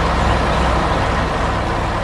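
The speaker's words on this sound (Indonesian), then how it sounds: "itu pengaduk semen yang sedang bekerja keras membangun jalan untuk kita semua" A cement mixer truck in a 3D construction animation gives off a loud, continuous heavy-engine drone, close and steady for the whole stretch, with no talk over it.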